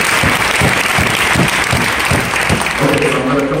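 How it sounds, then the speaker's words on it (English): An audience claps together at a special event in Brockport, with a steady, full round of applause across the whole span. It is close and loud, and a voice starts to speak near the end. "let's give a warm and a welcoming again round of applause to Sister Grace for that."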